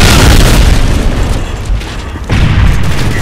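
A loud, booming explosion in Call of Duty: Modern Warfare 3 multiplayer rumbles and decays, followed by a second heavy blast near the end.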